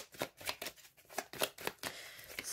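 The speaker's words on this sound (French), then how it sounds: "J'aime bien en ce moment aller prendre une petite carte des plumes. Allez, on va mélanger." A deck of oracle feather cards is shuffled by hand in quick riffling bursts, several soft rapid flutters in a row, close and fairly quiet.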